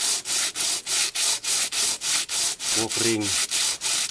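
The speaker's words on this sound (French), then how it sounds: "Toute la nuit, il faut scier la nacre pour les anneaux." A saw cuts through mother-of-pearl shell to make rings, a steady rhythmic rasp of back-and-forth strokes, close and loud, with a brief voice partway through.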